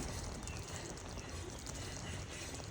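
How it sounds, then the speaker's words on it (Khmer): Fish sauce poured into a cooking pot while making Cambodian fried fish with kroeung paste, giving a steady close liquid pour with a faint bubbling simmer underneath, no talking. "យើងដាក់ទឹកត្រីចូលទៅ"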